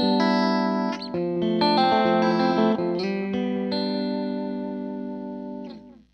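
Electric guitar played through an ambience effect pedal on a basic pedalboard, with sustained chords ringing out together and a soft wash of tail behind them, played alone and fading away at the end.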